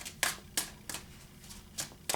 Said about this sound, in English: I just feel like shuffling.